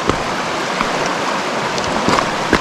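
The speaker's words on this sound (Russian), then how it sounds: "непреодолимая горная река Псизуапсе" The Psezuapse, a mountain river, rushes over stones as a steady broadband wash of flowing water, close and continuous with a few brief splashes, and no talk is heard.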